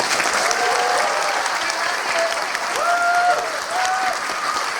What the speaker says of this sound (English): Big round of applause to the guys.